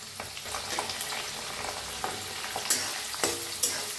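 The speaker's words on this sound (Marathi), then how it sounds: "आता कांदा कापलेला भाजून घेऊया" Chopped onion fries in a pan while being stirred for poha, a steady close sizzle broken by sharp scraping clicks of the spoon against the pan every second or so, with no one speaking.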